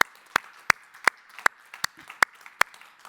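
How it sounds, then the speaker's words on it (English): A few sharp handclaps ring out at a High North Dialogue conference session, about eight evenly spaced beats in a steady rhythm, fairly close and clear with no talking over them. "I think they also need an applause."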